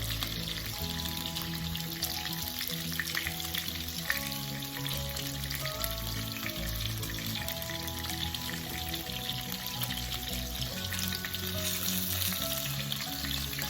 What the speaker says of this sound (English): You can see my ugali water is boiling.